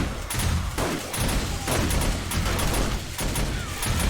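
Shotgun turrets in 7 Days to Die fire during a zombie horde night, a loud, dense, continuous volley of rapid blasts with sharp repeated cracks and mechanical clatter close by.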